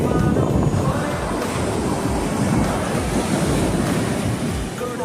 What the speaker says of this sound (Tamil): எவ்வளோ பெரிய கடல்.